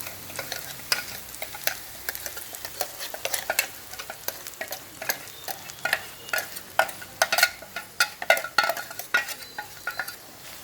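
Eggplant fry with spice powder being stirred in a pan, sharp irregular scrapes and clicks of the spoon over a soft sizzle, close and alone with no talk.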